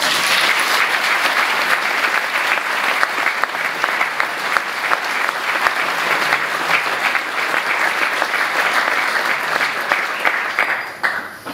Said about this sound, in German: ist einmal ein Applaus wert.